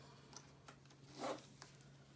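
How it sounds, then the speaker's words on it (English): A short zipper pull on a fabric pouch being sewn rasps quietly up close, with a couple of faint ticks before it in an otherwise hushed room. "unzip my zipper a little bit"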